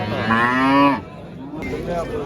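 A cow at a livestock market moos loudly and close by, one long low call followed by a shorter second moo.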